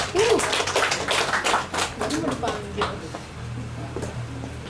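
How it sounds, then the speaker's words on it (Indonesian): An audience breaks into scattered applause at a launch event, the claps quick and uneven for a few seconds before fading as voices carry on. "Tepuk tangan dong buat Mbak Suci dan Dimas."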